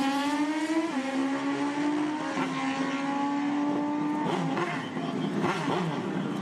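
A Suzuki Hayabusa motorcycle on a drag strip run at a summer drag racing event screams up through the gears, a loud, steady high-revving engine note with distinct shift drops before the pitch climbs again as it pulls away.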